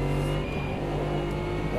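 A race car drives in the sim racing game Automobilista 2, a continuous engine roar with slight pitch shifts, moderately loud and without speech.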